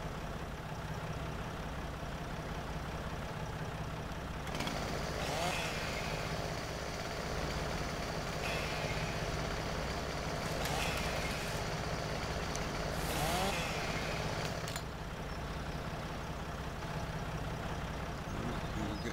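A tractor engine runs steadily while hauling a load of wood on Rathlin Island, a low continuous rumble with a few brief hissing surges, no talk over it.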